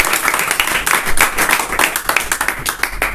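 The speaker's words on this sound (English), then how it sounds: "Wow, let's do a big applause." Clapping from a small group at a casual English-language cooking demonstration, a quick scatter of overlapping claps running steadily for a few seconds at moderate level with some faint talk underneath.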